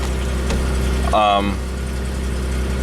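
A Pontiac Grand Am GT with nearly 135,000 miles idles steadily in a low, constant hum throughout, with a brief tonal whine rising over it near the middle.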